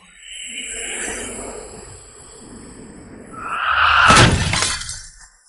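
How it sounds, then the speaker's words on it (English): A low rushing swell builds, then glass shatters loudly and sharply, fragments ringing briefly afterward. "Glass exploded."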